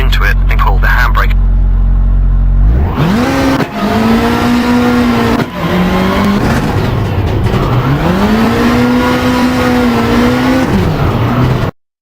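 A rally car in Richard Burns Rally roars from idle into hard acceleration, with engine pitch climbing and dropping through gear changes and braking into a hairpin, loud and close, with a voice giving driving instructions over it.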